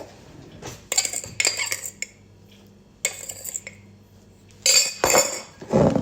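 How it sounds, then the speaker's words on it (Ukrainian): Cookie dough ingredients and powdered sugar being stirred in a bowl, with bursts of metal utensil scraping and clinking against the dish between quieter pauses, close and fairly loud with no talking. "Тепер ми це все перемішуємо ретельно."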